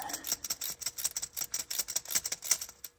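Rapid, irregular ticking and rattling clicks from a worn idler pulley bearing spinning on a Dodge Grand Caravan, a dry mechanical chatter, fairly close and steady for a few seconds, no voices.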